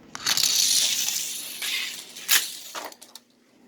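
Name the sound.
NASCAR race car crashing into a sign, video game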